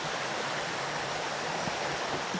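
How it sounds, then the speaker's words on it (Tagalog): A farm creek flows steadily, its broadband rushing water close and continuous throughout, with no voices over it. "titingin-tingin kayo dito sa sapa nyo, or sa ilog"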